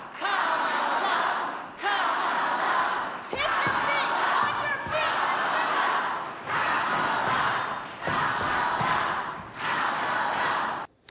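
Rally crowd chanting Kamala in repeated loud roaring bursts, each rising then briefly breaking off, close and full.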